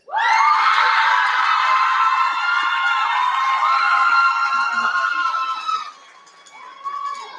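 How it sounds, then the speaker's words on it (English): Crowd at an opening ceremony cheers and shouts loudly and continuously, with whoops and screams over a sustained roar, easing off near the end before a brief swell; no clapping rhythm stands out clearly. "please give me a round of applause for the project administrators, Natalia Chapa Mills and Isabela Sada Nieto,"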